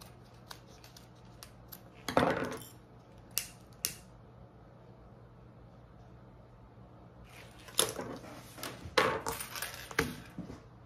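Fabric being trimmed with scissors while making a waist pack: scattered sharp snips and clicks in short bursts, close and fairly clear over a quiet room with a low steady hum.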